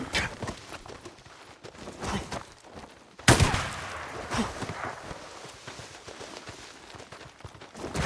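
Gunfire in the zombie game Days Gone: scattered shots and crunchy footfalls, then one sharp loud rifle crack at about three seconds, with quieter reports and shuffling noise continuing afterward.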